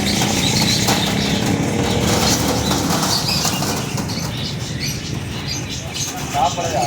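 Kasuri pigeons beat their wings in a loud, dense flurry of flapping close by, continuous and busy throughout, easing slightly toward the end.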